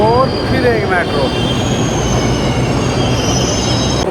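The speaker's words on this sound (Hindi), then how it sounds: "और फिर एक मेट्रो।" A Delhi Metro train running past at close range, its wheels squealing in high rising tones over a steady loud rumble and rail clatter throughout, with faint voices in the background.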